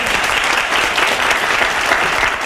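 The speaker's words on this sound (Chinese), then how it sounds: "好，大家先鼓掌一下好" Steady, dense applause from a forum audience at a political and economic outlook event, many hands clapping at once, loud and continuous with no voices over it.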